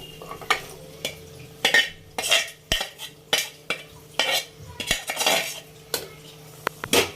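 Mutton pieces being mixed into masala in a pot, with repeated close metal spoon scrapes and clanks against the vessel in an uneven rhythm and no talking.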